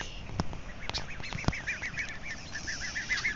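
A small flock of geese at a cramped bird gathering, with repeated honking and quacking calls that carry on steadily, close by and fairly loud over a busy outdoor background.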